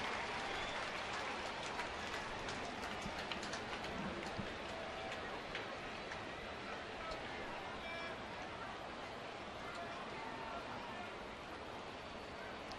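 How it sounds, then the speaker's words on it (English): A distant crowd of scholar athletes cheers and claps at a St. Louis baseball game against New York. The sound is a steady, faint wash of applause and crowd noise that carries through the whole stretch without letting up. "Those Scholar athletes here cheering him on"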